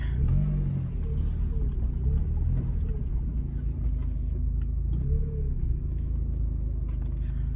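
A Mazda NA Miata with a freshly tuned transmission drives slowly while being parked, its engine a low steady hum with a few gentle rises in pitch as it creeps along, fairly close.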